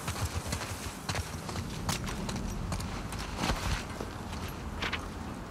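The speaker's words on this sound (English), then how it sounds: "I'll just leave this horse out in the open" Horse hooves clip-clopping in The Last of Us Part II, a steady walking rhythm of close, distinct hoof strikes over a dense game ambience, with no talking.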